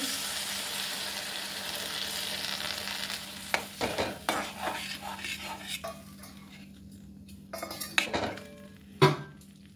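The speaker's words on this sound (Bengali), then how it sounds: "এবার আমি জল দিয়ে দিচ্ছি" Water poured into a pan of fried fish head for muri ghonto, a soft sizzle giving way to spoon stirring and clinks against the pan, with a few sharp metallic knocks near the end.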